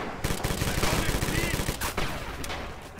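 Rapid close gunfire in Red Orchestra 2, a dense burst of loud overlapping shots lasting a couple of seconds, then a few scattered single reports as it trails off.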